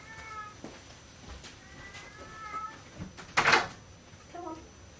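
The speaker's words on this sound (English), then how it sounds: "That's Meg meowing her head off" A pet cat meows loudly and repeatedly indoors, a string of drawn-out cries with one sharp, louder yowl near the end, close to the microphone amid quiet room noise.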